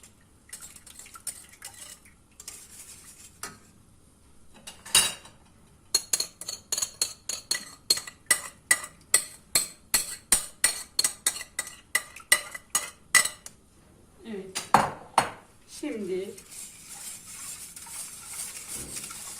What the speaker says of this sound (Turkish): puding kıvamında gelene kadar böyle pişmiş puding kıvamına gelene kadar yavaş yavaş karıştıracağız